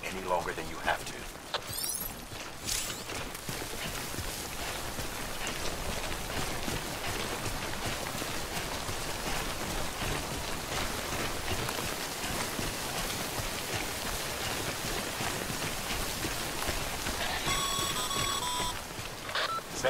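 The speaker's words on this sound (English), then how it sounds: "Don't stay out in the rain any longer than you have to." Steady rain falling in the video game Death Stranding, a continuous dense hiss of drops that holds at an even level throughout, with faint electronic beeps and tones briefly layered over it.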